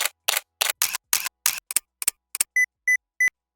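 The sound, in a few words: camera shutter sounds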